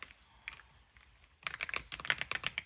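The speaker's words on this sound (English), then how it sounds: "Can you keep typing, please?" Rapid, irregular keystrokes on an RGB mechanical keyboard, sparse clicks at first and then a dense, close-up burst of clacking typing with no one speaking.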